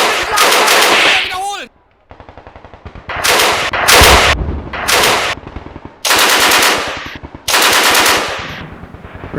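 Russian machine guns hammer out in several long, loud bursts of rapid fire, separated by brief pauses, with a short whistling sound near the start.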